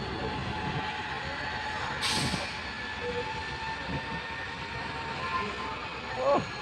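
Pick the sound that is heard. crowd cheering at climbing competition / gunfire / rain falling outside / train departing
train departing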